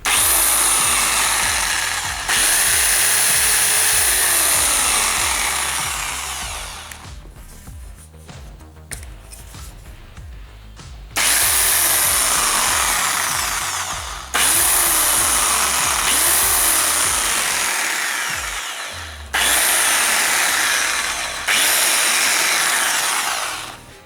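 A Procraft ST1150 electric jigsaw is switched on and runs unloaded. Its loud, high whining motor buzz comes in several bursts of a few seconds each, separated by brief dips where it cuts out or slows.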